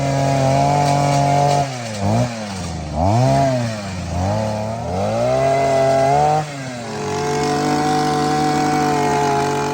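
A Vevor 6-in-1 trimmer cuts back yaupon brush along a trail, its loud, close engine whine rising and dipping repeatedly as the blade bites into the branches, with no talking.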